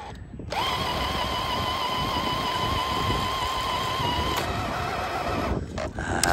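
A Tamiya King Hauler RC truck crawls off-road in second gear, its electric motor giving a steady high whine that holds for several seconds, close and fairly loud, then drops away.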